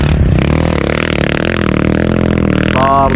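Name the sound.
motorcycle engine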